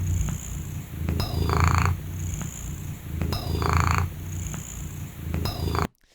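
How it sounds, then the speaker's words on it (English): Close, loud purring from a cat, a steady rumbling rhythm of inhales and exhales repeated over several cycles, heard alone before cutting off abruptly at the end. "this time it's a little bit more of a purr than it is a croak from Mika"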